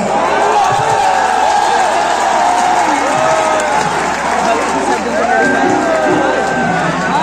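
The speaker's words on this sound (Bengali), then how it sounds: "জোরে করতালি হয়ে যাবে" Crowd clapping and cheering at an open-air concert on Manik Mia Avenue, loud and continuous throughout, thick with shouting voices and crowd babble.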